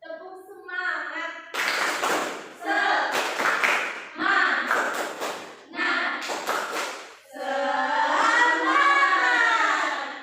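A school class chants and claps a rhythmic cheer, with children's voices and bursts of group claps and hand thumps coming in short patterned groups.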